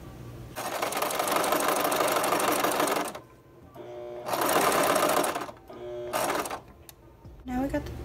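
A sewing machine stitches the seams of a garment being remade from plain clothing, running in two long bursts with a short stop-start run between and a brief restart at the end, close and fairly loud.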